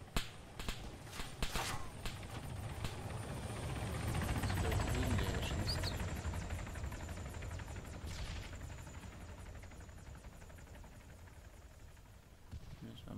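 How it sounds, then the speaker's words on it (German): Helicopter in the video game Arma III during a King of the Hill multiplayer match, a steady rotor drone with rapid chopping pulses that swells and fades over about thirteen seconds, heard alone without talk. "Mein Heli."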